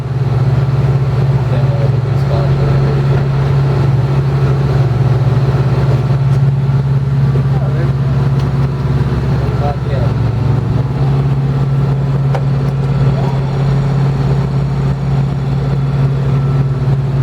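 A Hatteras 53 yacht's engine running loud and steady at about 850 RPM while docking, a strong constant low drone with little variation, with people talking over it.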